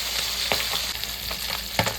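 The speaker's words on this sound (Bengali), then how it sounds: "বাকি মাছগুলো আমি ভেজে নিচ্ছি।" Chapila fish fry in hot oil, a close, steady crackling sizzle punctuated by a few sharp pops and stirring clatters, with no talking.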